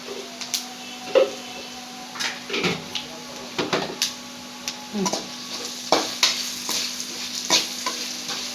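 Spatula stirs okra fried in oil in a pan, with repeated scraping knocks at an uneven pace over a steady low sizzle, close up and with no talking.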